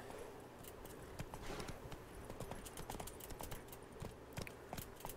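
Hooves from Roach, a horse in The Witcher 3, clop in a quick, uneven galloping rhythm at a moderate distance over a steady outdoor ambience, with no voices.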